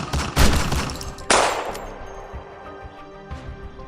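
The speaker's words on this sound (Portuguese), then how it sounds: "um homem se aproximou e começou a atirar com uma pistola" Pistol gunshots: two loud, sharp blasts about a second apart, each trailing off in a ringing, reverberant decay, with no voices over them.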